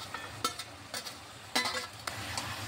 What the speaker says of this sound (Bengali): ভালোভাবে বেগুন শাক একটু কষিয়ে নিচ্ছি।